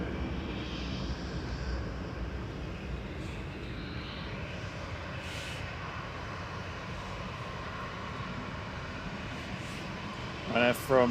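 An aircraft in from Brussels, registration 9H-QDA, touches down at Manchester Airport with a broad, steady roar of engine and rushing air that holds evenly, then a couple of sharper knocks at the very end.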